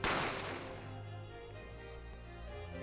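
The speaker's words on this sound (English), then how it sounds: "I didn't have time to think about where the sound the gunshot had come from." A loud gunshot effect from The Great Ace Attorney Chronicles video game bursts out at once, then its echo decays into a sustained low rumble and reverberant tail with no voices.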